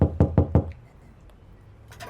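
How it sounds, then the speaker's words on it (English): Three hard, quick knocks land on a door at close range, followed by quiet. "I knock again, harder."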